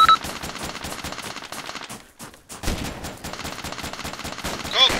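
Rapid gunfire rattles in Arma II, with dense, fast bursts of automatic shots, a brief lull near the middle, then renewed firing close and loud.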